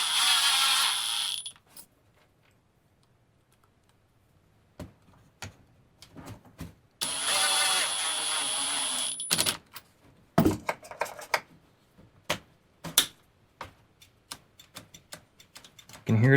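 Light mechanical ticking and clicking from parts touching inside a Stihl BR450 leaf blower, heard as scattered faint taps and short rattles between louder bursts of handling noise.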